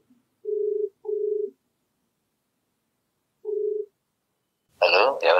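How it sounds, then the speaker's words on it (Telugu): Three short touch-tone telephone keypad beeps sound alone against silence while a phone call is dialed, followed by a voice starting to speak at the end. "ఒకసారి కాల్ చేసి మాట్లాడదామండి."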